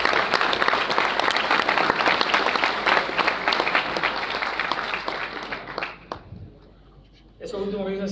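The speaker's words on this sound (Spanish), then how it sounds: "dejo con ustedes a Ernesto García para que den un aplauso" A conference audience applauds to welcome a speaker at a tech event, dense loud clapping for about six seconds that thins out and dies away, followed by a brief quiet before a voice begins.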